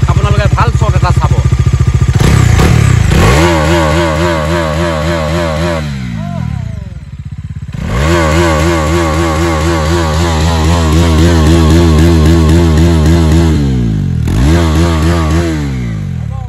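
A Bajaj Dominar 400 motorcycle, about six months old, revs hard while standing still, its loud close engine climbing to high RPM in repeated surges, dropping back briefly between pulls.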